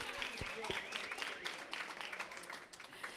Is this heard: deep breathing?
no